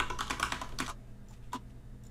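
A password is typed on a computer keyboard, with a quick burst of close key clicks followed by a few scattered single taps against a quiet background.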